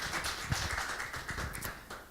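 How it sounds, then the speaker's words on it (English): Audience applause at a blockchain technology talk: dense, steady clapping from a seated crowd, fairly close and even for about two seconds, with no speech over it. "please give some applause for Lukas"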